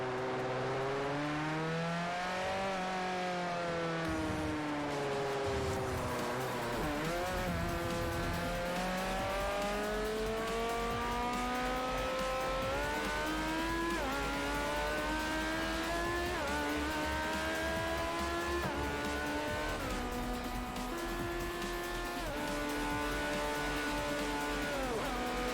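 A race car in Forza Motorsport 4 revs hard and climbs through the gears, its loud engine whine rising again and again with short drops at each shift, continuous and up close.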